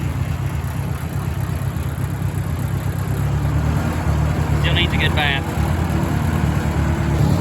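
An old tractor engine idles in a steady, close mid-pitched chug that runs throughout, while a person talks over it.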